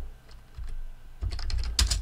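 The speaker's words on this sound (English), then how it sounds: "I'm going to type in" Typing on a computer keyboard while entering text in After Effects produces a quick run of close key clicks that grows denser and louder toward the end, with no voice over it.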